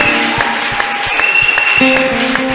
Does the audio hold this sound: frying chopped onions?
no